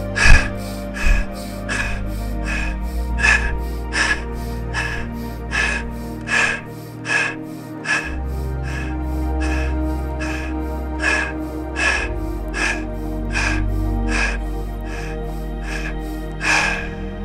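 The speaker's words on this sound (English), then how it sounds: "21 warrior breaths, inhale strong through the nose," Rapid yoga warrior breaths, strong nasal inhales and forceful fast exhales repeating in a steady rhythm, loud and close, roughly one breath per second with a slight pause midway.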